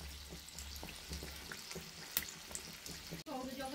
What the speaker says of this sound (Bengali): এটা ডুবো তেলেই ভাজতে হয়